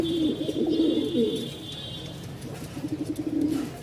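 Pigeons, including Giribaz birds, coo in soft repeated rolling bursts close by at a pigeon market, with a faint steady whine in the background.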